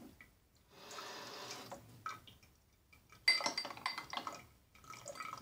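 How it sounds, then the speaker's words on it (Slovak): A teaspoon rinsed under running water, with glassy clinks of metal against dishes, splashing bursts and quieter gaps between, close by. "Umyjemy tu lyžičku."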